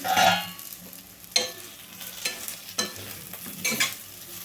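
Raw banana pieces fry in a pan and are stirred now and then, with a few separate spatula scrapes over a low, steady sizzle. The sound is close and there is no talking.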